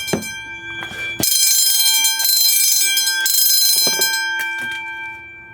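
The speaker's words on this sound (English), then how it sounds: "It re-alarmed." A fire alarm system installed in a car goes off again after a reset, its loud electronic bell-like ringing starting abruptly and droning on with steady tones, preceded by brief clicks and beeps.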